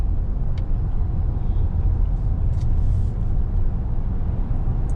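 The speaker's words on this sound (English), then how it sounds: "Transmission kick down, a couple gears there for the acceleration run." A 2017 Cadillac Escalade luxury SUV engine revving hard under acceleration as the transmission kicks down a couple of gears, a steady loud low rumble heard from inside the cabin with no talking.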